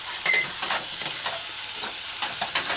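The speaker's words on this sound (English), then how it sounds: "you're stirring in your pot as you would stir fry" Cabbage chicken stew with carrots being stirred in a pot, a steady wet sizzling hiss with soft scraping strokes repeating about every half second, close and fairly loud, no voices.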